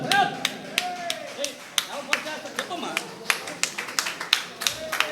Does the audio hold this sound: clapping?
yes